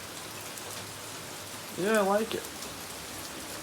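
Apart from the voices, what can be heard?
rain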